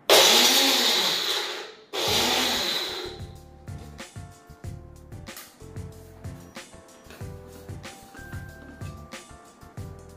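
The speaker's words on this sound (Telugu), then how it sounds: "నేనైతే మిక్సీ వేసేస్తున్నా" A mixer grinder whirs loudly in two short bursts while coarsely grinding garlic and spices, then stops, followed by softer clattering and knocking sounds.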